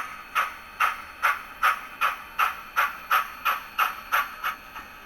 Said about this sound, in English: And then same thing when the load gets lighter, you'll hear the chuff kind of back off.